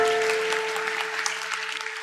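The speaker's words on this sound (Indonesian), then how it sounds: "Kasih tepuk tangan untuk Tuhan Yesus." A church congregation claps enthusiastically during a sermon, dense applause filling the whole moment with steady, loud hand-clapping.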